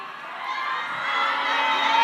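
A crowd cheers and shouts steadily at the Miss Universe Laos 2025 pageant as a contestant is announced, with children's shrill voices and whoops in a loud, sustained roar.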